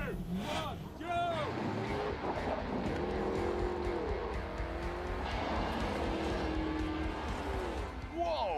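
A Holden Ute launches at the start of a race, its engine revving and pulling hard at a steady roar that rises and falls. People talk excitedly over the car noise.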